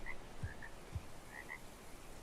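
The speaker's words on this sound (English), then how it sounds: "Thought I hear frogs." A few low frog croaks sound apart in a faint, quiet video game ambience in Ark: Survival Evolved on the Crystal Isles map, with occasional higher chirps in the background.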